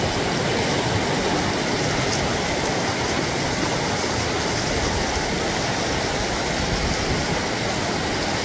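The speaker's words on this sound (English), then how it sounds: "Very, very beautiful river." The Psezuapse River at Lazarevskoye near Sochi rushes steadily in early spring, a loud, continuous broadband roar of flowing water with no pauses.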